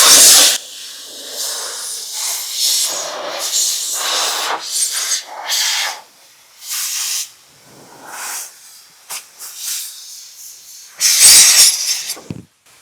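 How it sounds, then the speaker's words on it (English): An air blower dries the nooks behind a van's tire and wheel during a car wash, giving loud hissing rushes of air in repeated bursts that start and stop, close to the listener. "you're going to want to go in here with the blower"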